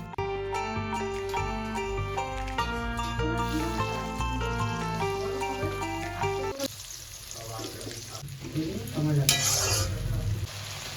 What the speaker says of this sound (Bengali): কড়াইয়ে সর্ষের তেল গরম করে আমি আলু দিয়েছি, তাতে লবণ দিয়ে ভালো করে আলুগুলো লাল লাল করে ভেজে তুলে নেব